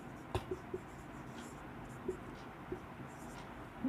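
Faint taps and scratches of writing on a board during a Hindi grammar lesson, a few soft strokes scattered over a few seconds against a quiet room hum.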